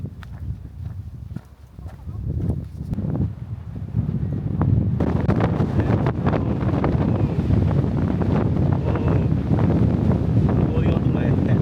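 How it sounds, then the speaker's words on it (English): Strong wind buffets the microphone at a cliff lookout in Kalbarri National Park, Australia, a loud, constant rumbling roar that gusts and builds partway through, with no speech over it. "Oh, wind is damn strong."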